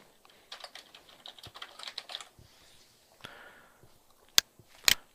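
Someone types a name on a computer keyboard in color adjustment software, a close run of quick irregular key clicks followed by a pause, a soft rustle and two sharper, louder keystrokes near the end.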